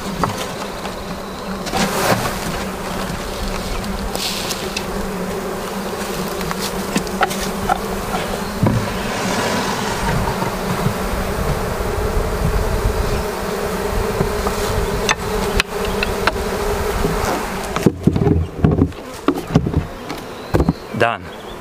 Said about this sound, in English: I will just shake all of the bees into this box and this will complete the transfer